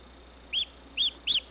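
Newly hatched goslings in a laboratory give three short, high, evenly spaced peeping calls, clear and close against a quiet, faintly humming room, with no talking.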